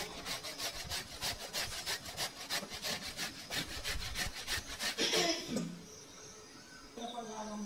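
Fresh cassava is grated by hand in a kitchen, with a steady run of rhythmic rasping strokes, loud and close. The strokes stop near the end, followed by a few softer scraping and handling noises.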